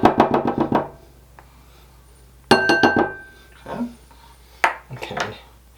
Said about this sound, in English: Got my trusty little spatula here to do some scraping for me